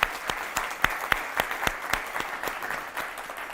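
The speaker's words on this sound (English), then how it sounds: "Again, applause for them and not for me." Audience applause at a talk about John F. Kennedy's presidency, a steady patter of many individual hand claps with distinct sharp claps standing out, moderately loud and without talk.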